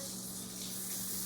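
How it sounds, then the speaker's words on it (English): Tap water runs steadily into a kitchen sink for handwashing before making Christmas candies, a continuous close hiss with no talk over it. "turn your water on, stick your mitts underneath"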